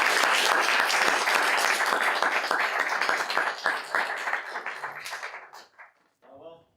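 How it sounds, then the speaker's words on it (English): An event audience applauds the organizers, with dense clapping that gradually thins and fades out, then a brief bit of talk at the end. "one more time, round of applause for the organizers for making this possible."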